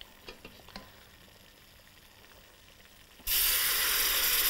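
Chicken stock ladled into a roux in a pan for béchamel, set off by a few faint clinks before a sudden loud, steady hissing sizzle that holds to the end.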